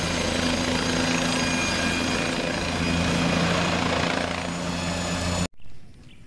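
A toy helicopter runs with a steady, loud whirring rotor and motor drone that holds for about five seconds, then cuts off abruptly, leaving only faint background noise.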